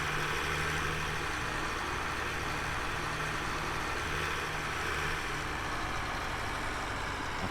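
A tractor engine in Farming Simulator 17 runs at a constant low rumble, a steady drone that stays level from start to end with no talk.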